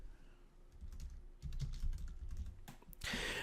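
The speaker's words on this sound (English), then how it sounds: "I'm going to type run code." Fingers type on a computer keyboard in quick, irregular bursts of close, crisp key clicks, with a louder clatter near the end.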